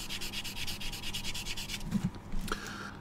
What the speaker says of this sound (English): a fine sanding sponge,